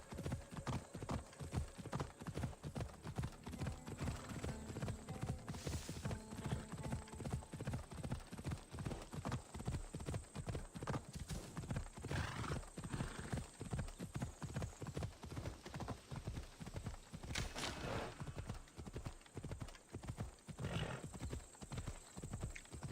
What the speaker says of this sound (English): That thing where the horse doesn't run fast enough. Run faster, unicorn.